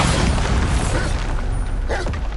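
Bombarda blasting spell explosions in Hogwarts Legacy on PS5, a dense, loud wash of low booms and crackling debris rumbling continuously, with a sharper burst near the end.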